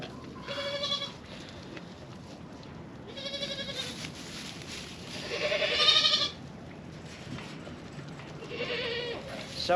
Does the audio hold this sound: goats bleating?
yes